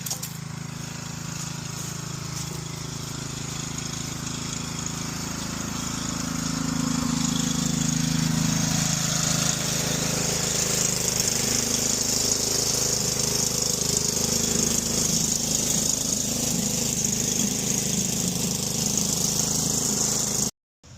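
A DR 26 Premier walk-behind brush mower runs steadily while mowing beside a highway, its engine a continuous close drone that grows louder and rougher about a third of the way through, then cuts off abruptly at the very end.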